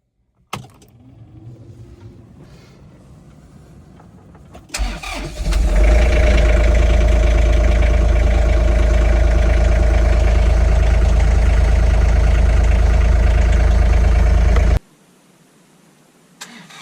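A John Deere tractor used for snowblowing cranks over and starts, then settles into a loud, steady idle for warm-up on a wet 30-degree day before cutting off abruptly, with no talk.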